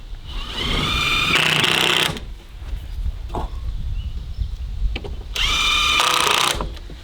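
A power drill drives screws through a wooden board into a rabbit cage, whining loudly in two bursts of about a second each with a rising pitch, separated by quieter handling knocks and background noise.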